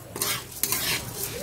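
Khichuri cooking in a wok is stirred with a utensil, giving a steady sizzle and scraping strokes that sound close and fairly loud, with no one talking.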